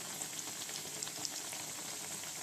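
Bitter gourd fritters (bhaji) fry in hot oil, giving a soft, steady sizzle with scattered tiny pops and crackles, fairly faint and with no talking.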